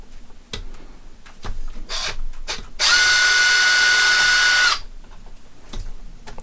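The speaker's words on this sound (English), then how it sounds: "take our 2 mil, loosen up this hub" A 2 mm hex driver loosens the rear hub screw on an Arrma Kraton RC truck. Scattered clicks and ticks lead into a steady, loud whirring burst of about two seconds, like a power driver spinning, then fading back to light handling clicks.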